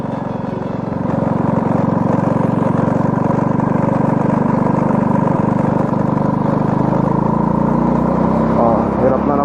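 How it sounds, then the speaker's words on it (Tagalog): A semi-automatic motorcycle engine labors in second gear, a steady close drone running without break from start to end with a slight rise in pitch as it pulls. "Hirap yung makina, oh. Nag-second gear ako."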